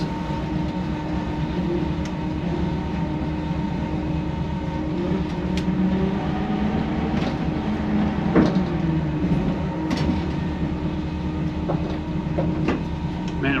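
A VW bus with freshly painted wheels drives around the block, a steady loud rumble of engine and road noise with occasional rattles and knocks.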